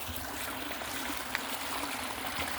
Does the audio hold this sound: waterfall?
yes